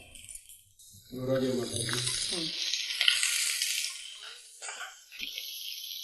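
Onions sizzle in a hot pan on a home kitchen stove while a Kannada-speaking cook prepares a cowpea stir-fry; a steady frying hiss rises and continues under nearby conversation.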